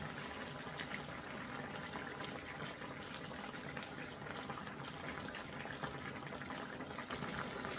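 A steady, dense bubbling and hissing of fish stew (seabream paksiw) boiling in a pot, continuous and close, with no voices over it.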